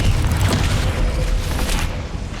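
Confringo blasting spell explosions in the video game Hogwarts Legacy, a continuous loud, deep rumbling boom with heavy low-end energy, sustained throughout and easing slightly at the end.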